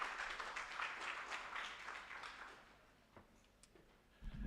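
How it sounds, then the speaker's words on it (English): An audience at a public policy learning forum session applauds steadily, a broad wash of many hands clapping that gradually thins out toward the end, with some rustling at the close. "with that, a round of applause to each one of us"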